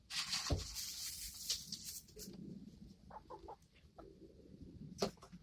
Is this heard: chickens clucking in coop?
yes